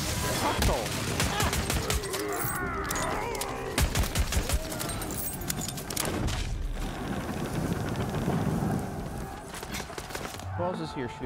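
Rapid gunfire bursts from a Tiny Tina's Wonderlands game battle, dense overlapping shots and impacts layered over busy game effects and music throughout.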